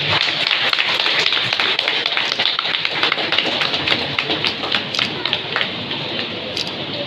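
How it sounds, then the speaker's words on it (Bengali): Audience clapping loudly at a postal department women's empowerment event, a dense, steady burst of many hands that carries on through the whole stretch and fades slightly toward the end. "সকলে জোরে হাততালি দেবেন"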